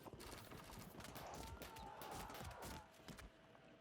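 Hooves of horse archers clatter in the Field of Glory II strategy game, a dense, continuous galloping clip-clop at moderate volume that thins out near the end, with a faint tonal music line underneath.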